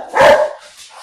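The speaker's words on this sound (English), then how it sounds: "as you can hear from my dogs" Household dogs give one sharp, loud bark followed by a fainter yip in the background, heard alone without speech.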